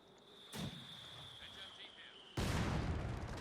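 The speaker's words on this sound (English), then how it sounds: "Mortar fire there crumbling in the roof of the house" Mortar shells land in a Company of Heroes 2 match as a house roof crumbles: a sharp blast near the start, a steady tone underneath, then a loud broadband crash and rumble that keeps going to the end.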